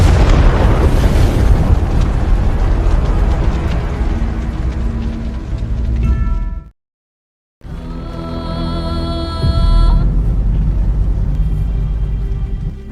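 A Ukrainian army tank opens fire in a Russia–Ukraine war film, giving a loud, rolling explosive boom that fades into a brief total silence, followed by ringing tones and rumbling aftermath.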